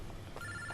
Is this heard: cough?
no